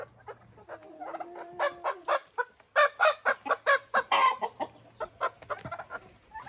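A four-month-old young hen clucking close by: a quick series of sharp, rhythmic clucks and short squawky calls in bursts, loud and clear, with no voices.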